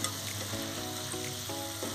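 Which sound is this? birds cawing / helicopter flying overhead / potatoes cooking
potatoes cooking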